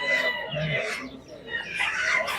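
Breeding roosters at a poultry market crow loudly and close, one long crow followed by another, with clucking fowl and faint market voices behind.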